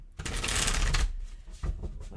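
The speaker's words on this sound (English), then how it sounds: "let me get a couple more shuffles in" A deck of playing cards is riffled quickly, a crisp fluttering burst followed by a softer second shuffle.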